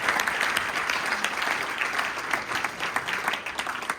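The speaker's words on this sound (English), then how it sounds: "A round of applause." Sustained applause from a sizable crowd at a breakfast event, steady and fairly loud, with dense clapping throughout and no speech over it.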